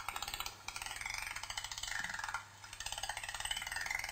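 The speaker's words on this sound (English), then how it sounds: "when dolphins send out a signal for echolocating, it sounds something like this" Dolphin echolocation clicks, a fast, steady train of sharp clicks that blur almost into a buzz, with brief pauses between bursts over an underwater background hiss.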